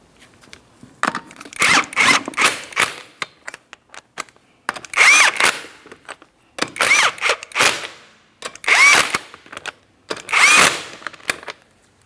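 An impact or power tool snugging lug nuts onto a wheel hub of a 2004-2008 Pontiac Grand Prix, heard as five loud close bursts of whirring and rattling, each a second or two long, with short pauses between.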